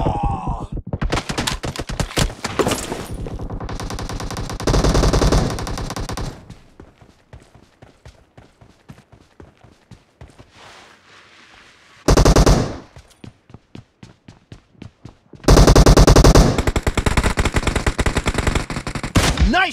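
Kar98 rifle gunfire in a team deathmatch video game cracks out in loud, rapid volleys and scattered single shots, with quieter gaps between the dense bursts.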